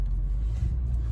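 An Infiniti FX50 on bald tires churns through a snow storm, giving a low, steady engine-and-wheel rumble with a muffled roar, close and continuous, no talk.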